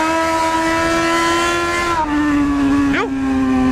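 Motorcycle engine revs with a steady whining drone that dips and shifts pitch partway through, then gives a quick rising blip near the end, close and loud, with no clear talking.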